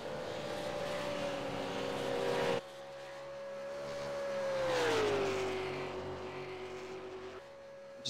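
A race car lapping an oval track in a Texas AUSCAR round, its engine tone holding steady, rising as it draws near and then sliding down in pitch as it passes, alone without voices.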